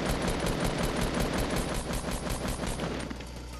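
Assault rifle fire in a video game comes in rapid, dense bursts of automatic shots, loud and close, continuing almost without pause.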